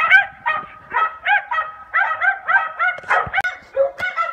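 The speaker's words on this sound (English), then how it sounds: "they're mean dogs" Several dogs bark repeatedly outdoors in a snowy setting, a rapid series of loud, close yaps and bow-wows following one another with short gaps.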